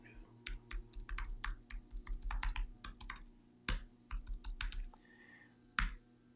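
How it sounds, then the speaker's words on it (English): Keys on a computer keyboard clatter in quick, irregular bursts of typing, close and fairly quiet, with short pauses and a sharper key tap near the end. "Let me just type in what it could be. Let me type in real quick."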